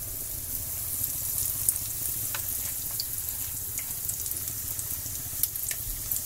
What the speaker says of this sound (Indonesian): perkedelnya aku udah mau goreng ya